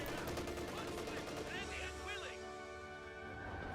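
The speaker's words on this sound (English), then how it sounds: "Kubwagen firing away" Kubelwagen in Company of Heroes 2 fires bursts of machine-gun fire amid battle sounds, with a commentator's voice running over the action throughout.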